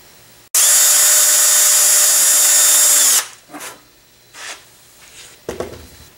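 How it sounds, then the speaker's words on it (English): A power drill bores a shear pin hole in the tube of a high-power rocket's upper section. It gives one loud, steady whine lasting about three seconds, then stops, and a few softer handling knocks and scrapes follow. "So I'll just drill the one and tap it, and that should be it for drilling holes in the rocket for now."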